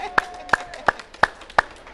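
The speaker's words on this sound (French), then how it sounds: "On peut l'applaudir, Valérie. Applaudis." Slow, spaced hand claps, six sharp slaps at an even pace, close and fairly loud, with a faint voice briefly underneath during a live broadcast.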